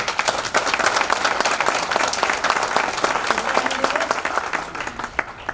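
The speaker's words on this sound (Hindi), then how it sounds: "ताली बजनी चाहिए" A crowd at a business event claps loudly and continuously, a thick burst of many hands that thins slightly toward the end, with no talk.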